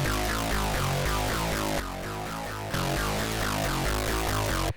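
A TB-303-style acid synth line from Arturia Pigments 4, run through multiband compression, pulses in a fast, dense, aggressive pattern, loud and close, with a brief thinner dip midway before resuming.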